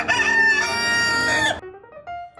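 A White Leghorn rooster crows once, loud and near, a drawn-out cock-a-doodle-doo that ends abruptly, followed by a few softer clucks.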